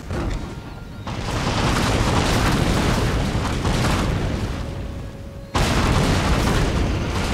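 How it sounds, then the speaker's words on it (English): Organ guns in a battle video game firing shrapnel shot, a continuous heavy rumble of booming bursts and explosions that drops away briefly, then comes back loud. "And they have shrapnel shot bursting."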